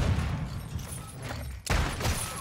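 Revolver fire in Call of Duty: Modern Warfare 2 multiplayer, busy game noise with faint distant shots, then a sharp loud blast near the end followed by ringing rumble.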